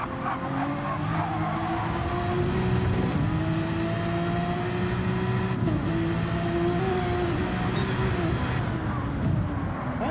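A Honda race car in Gran Turismo 7 rolls through a warm-up lap at Sardegna, its engine holding a steady, loud drone with smooth pitch shifts. A few brief tire squeals cut in, and a voice talks faintly underneath.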